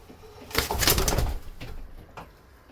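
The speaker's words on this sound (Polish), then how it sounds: "to jest gołąb" A pigeon coos close by, a soft throaty rolling call followed by a couple of shorter coos.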